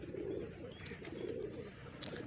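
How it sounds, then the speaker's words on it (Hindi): Pigeons coo softly in a village, with low, repeated rolling calls over a quiet outdoor background and a few faint higher chirps. "सोने सोने कबूतर हैं माशाअल्लाह"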